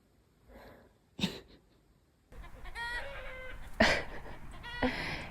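Laying hens on a small farm call out in short repeated clucks and squawks, some near and loud, others quieter, with faint background noise between bursts.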